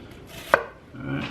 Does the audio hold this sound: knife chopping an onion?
yes